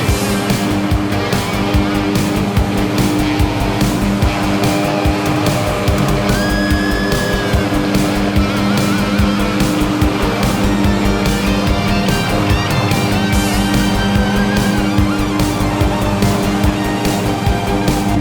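A Cedrus C-TRAC 102HC garden tractor engine drones steadily as it drives over rough garden ground, its loud motor note holding constant with occasional shifts in pitch.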